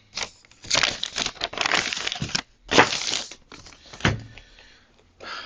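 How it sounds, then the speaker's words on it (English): Sheets of paper being moved around during a Razor Hovertrax charger port repair, producing bursts of loud, close crinkling and crushing noise with short pauses between handlings. "So let's just move this paper around a little bit. Kind of noisy."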